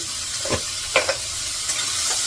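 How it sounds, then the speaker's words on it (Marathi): Tomato sautés in oil with a little salt, giving a soft constant sizzle broken by a few brief spatula scrapes and stirring clicks, heard close up with no talking. "थोडंसं टमाटा परतून घेते यामध्ये थोडंसं मीठ घालते मी परतायला"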